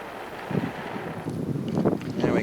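Strong wind buffets the microphone in an outdoor fire-making spot, a continuous rough roar with louder gusts building toward the end.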